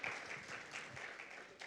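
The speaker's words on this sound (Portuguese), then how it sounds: "Um forte aplauso" A brief burst of applause, a church congregation clapping at a moderate distance.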